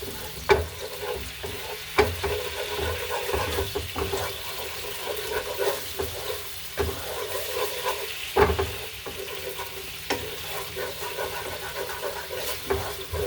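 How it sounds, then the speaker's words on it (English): Japanese style sauce with ginger simmers and reduces in a pan with a steady soft bubbling sizzle, broken by periodic sharp clinks of stirring. "so it's already reducing down. I can tell that it's getting really, really thick."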